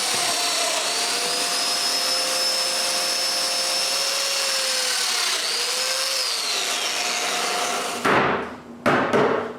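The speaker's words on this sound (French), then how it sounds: "maintenant que c'est réparé, je peux enfin percer les trous pour les dominos" A domino joiner cutting mortises into wood in a workshop, a loud continuous whining motor with a shifting pitch, then sudden bursts of rougher noise and abrupt stops in the last seconds.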